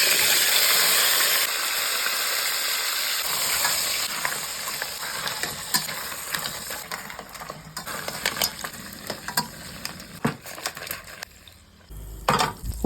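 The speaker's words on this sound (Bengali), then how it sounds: "আঁচ জ্বালিয়ে কড়াই বসিয়ে তেল দিয়ে কাঁকড়াগুলো ভেজে নিলাম।" Crabs frying in oil in a kadai, with a soft bubbling sizzle and irregular clinks and scrapes of stirring that grow sparser and quieter toward the end.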